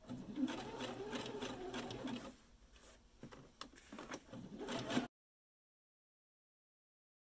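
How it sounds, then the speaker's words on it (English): Domestic sewing machine zigzag-stitching elastic onto the edge of fabric, a steady close mechanical whir running for about five seconds with faint speech underneath, then silence. "you want to zigzag on the edge of both the elastic and the fabric"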